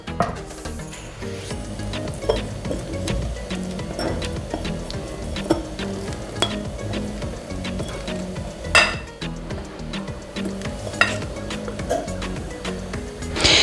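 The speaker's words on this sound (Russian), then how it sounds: "И все тщательно перемешиваем и, по сути, замешиваем тесто." Yeast dough for poppy seed buns being mixed by hand, with tea, yeast and a yellow mixture stirred in: steady scraping and stirring with occasional clinks against the bowl.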